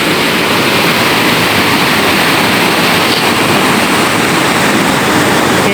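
Loud, continuous roar of big surf pounding the shore during Typhoon Kristine, a dense unbroken wash of crashing waves with wind buffeting the microphone throughout, no voices.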